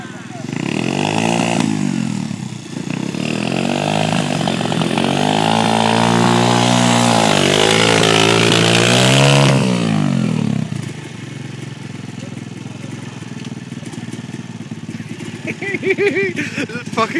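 A dirt bike engine revs hard and loud with rising and falling pitch while a rider learns in Cornwall, then drops to a lower idle-like drone as people talk nearby.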